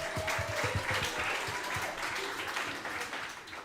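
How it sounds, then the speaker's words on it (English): A small crowd applauds for a girl's parents at a Baldwinsville girls flag football championship celebration, with scattered, fairly quiet clapping that continues for a few seconds. "Clap it up for Amy and Anthony."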